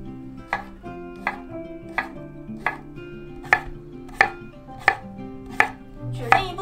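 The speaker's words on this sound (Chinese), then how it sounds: "小黄瓜切成薄片状" Knife slicing a cucumber into thin slices on a cutting board, about ten crisp, evenly spaced chops in a steady rhythm, close and clear with no talking.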